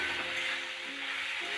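Shrimp tossed into okra frying in a pan gives off a steady, close, moderately faint sizzle with a little stirring, briefly and with no voices.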